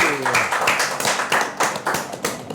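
A small group claps for Lexi during a Jakarta basketball talk show, quick uneven hand claps close by, with a voice talking over the first part.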